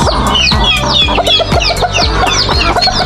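A Texas gamefowl rooster, a winning fighting cock kept in a backyard, clucks loudly and rapidly in close, continuous bursts with sharp overlapping calls.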